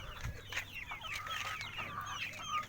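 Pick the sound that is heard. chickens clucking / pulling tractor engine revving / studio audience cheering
chickens clucking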